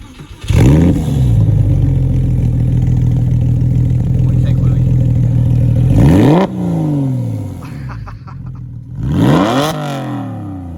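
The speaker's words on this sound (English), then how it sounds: "why don't you crank that up and let's hear what that sounds like" Porsche 996 fitted with Supercup-style delete exhaust pipes revs hard and loud, with a sustained high-rpm roar, a drop, then two more sharp blips rising and falling, heard close up.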